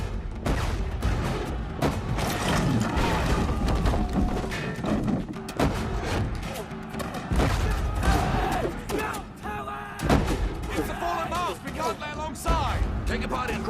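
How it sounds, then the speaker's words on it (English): Ship cannon broadside fire aboard a sailing warship in the movie Master and Commander, dense thuds and booms amid crashing and shouting voices, busy and chaotic throughout. "That means an enemy broadside is firing along the length of your ship."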